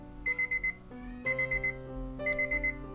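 An electronic alarm clock beeping in quick repeated bursts, three rounds of rapid beeps separated by short pauses, loud and close.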